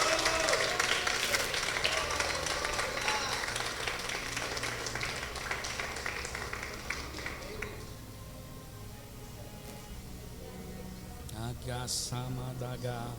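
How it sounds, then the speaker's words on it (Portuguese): A church congregation applauds together in a dense, sustained wash of clapping that gradually thins out, with voices and other sounds emerging toward the end. "Aplaude o nome do Senhor Jesus."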